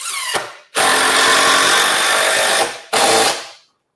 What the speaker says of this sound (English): Those little impact drivers are really